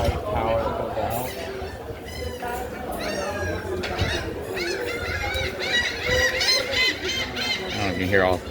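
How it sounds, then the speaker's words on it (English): A flock of birds at Coco Cay in the Bahamas calls loudly and constantly, with overlapping squawks and chirps filling the scene while a person talks over them. "Oh, you can hear all the birds going crazy here."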